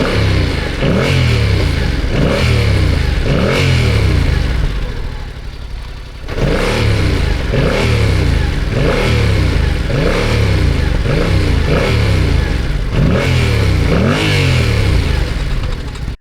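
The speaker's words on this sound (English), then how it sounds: "now the sound of this engine, I will put actually the recording, what I recorded while stationary on the bike when it was warmed up" A warmed-up 2025 Yamaha MT-07 with its CP2 parallel-twin engine sits stationary, idling and being revved repeatedly in rhythmic bursts, loud and close, with a brief lull midway.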